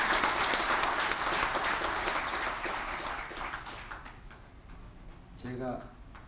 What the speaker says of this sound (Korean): 여러분 뜨거운 박수 부탁드리겠습니다.